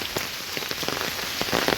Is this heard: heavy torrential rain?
yes